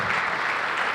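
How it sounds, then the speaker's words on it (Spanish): A church congregation applauding during a Spanish-language sermon, a brief dense burst of clapping from many hands. "Dale un aplauso al Señor si lo crees"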